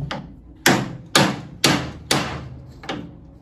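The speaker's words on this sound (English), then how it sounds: "Let's get a hammer." A hammer drives a part into the front beam of a 1949 Volkswagen split-window Beetle, five sharp metallic blows at an even pace, each ringing briefly and fading, close up in a workshop.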